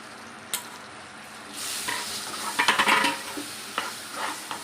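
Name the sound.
stirring spices and salt into curry in a pan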